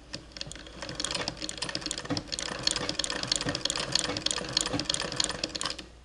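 An 1891 White treadle sewing machine stitches through single-layer sheepskin suede, giving a steady, close run of rapid clicking needle strokes across the whole stretch with no pauses.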